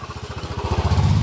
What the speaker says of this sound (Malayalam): ഒരു ബുള്ളറ്റ് പോകുന്നുണ്ട്